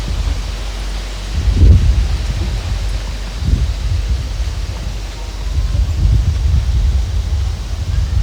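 Distant thunder rolls twice, low and muffled, over a steady wash of rain and wind noise as a rainstorm approaches; no voices are heard.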